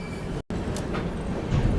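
A passenger train runs through Assam toward Rangiya Junction, a loud, steady rumble of wheels and carriage noise heard from on board, with faint clattering and no voices.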